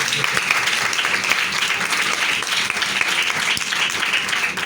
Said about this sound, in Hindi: आइए जोरदार ताली हो जाए।